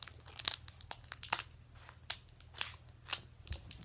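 Scissors snip and crunch through a crinkly chocolate bag, with sharp repeated cuts and rustling plastic up close over a low steady hum.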